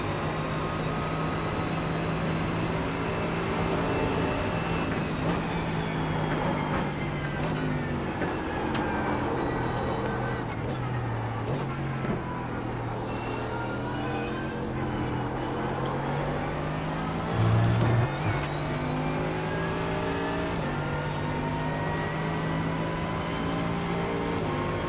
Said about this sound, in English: God, that BMW sounds so bad.